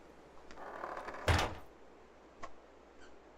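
A door opens in the survival video game H1Z1: Just Survive with a single scraping, thudding sweep, followed by a couple of faint knocks.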